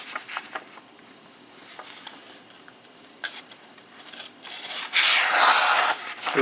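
A Buck 780 pocket knife slicing a regular sheet of printer copy paper, giving soft scratchy rasping strokes that build to a louder, brighter swish near the end, close and without talk.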